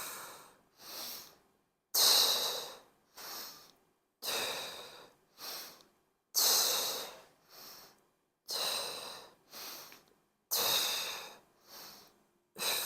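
Deep rhythmic breaths during a mat Pilates exercise, strong hissing exhales alternating with softer inhales in a steady cycle of about a dozen breaths, close and clear with silence between them.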